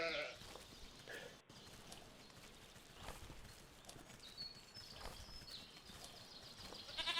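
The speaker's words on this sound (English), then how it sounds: "So we'll go up to our sheep, grab the wool they have for us." Video game sheep bleating on a farm, a few short wavering calls scattered over a busy mix of ambient game sounds and light thumps.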